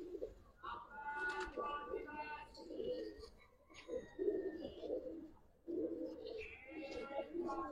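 Gribaz pigeons, a large male and its mate, coo in soft repeated bursts at close range while someone speaks over them intermittently.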